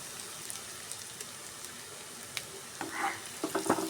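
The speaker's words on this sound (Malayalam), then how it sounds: "എണ്ണ നന്നായി ചൂടായി ഇനി ഉള്ളിയും വറ്റൽമുളകും ഇട്ട് കൊടുക്കാം" Onions and dried red chillies drop into hot oil, setting off a steady hiss with scattered pops that swell into louder crackling near the end, close by.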